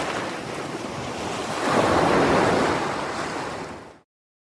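Ocean waves wash onto a salty shore in a broad hiss that swells to a louder surge midway, then cuts off abruptly near the end; no voices.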